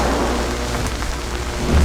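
A thunderstorm conjured by the Storm Dragon spell in the game Jade Empire, with continuous heavy rain-like hiss and a low thunder rumble swelling near the end, loud and unbroken, no speech.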